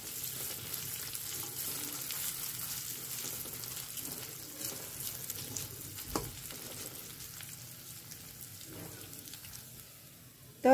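Masala with a spoonful of crushed ginger cooks in a pan for spinach samosa chaat, giving a continuous low sizzle with occasional soft stirring scrapes and a sharper clack at the very end.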